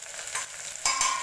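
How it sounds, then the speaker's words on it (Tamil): Onions, green chilies and curry leaves sautéing in a pan for Tamil Nadu style fish biryani, a brief steady sizzle with a louder burst of crackling as they are tossed and stirred. "அப்புறம் ஒரு 4 பச்சை மிளகாய், கருவேப்பிலை, இது 3ஐயும் போட்டு நல்லா வதக்கி விட்டுக்கோங்க"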